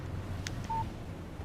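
A short electronic phone notification tone for an incoming text in Alan Wake Remastered, a brief beep and a steady held tone heard alone over low game ambience.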